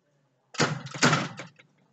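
A front door is opened, giving a brief clatter and a thud with a short rattling tail, close and fairly clear, with near silence before and after.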